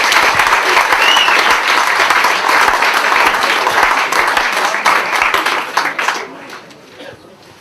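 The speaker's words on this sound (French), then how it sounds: "Déjà, vous pouvez déjà l'applaudir pour ça." Audience applause at a sports festival in Auray, loud sustained clapping from a crowd that swells and then thins out and fades toward the end.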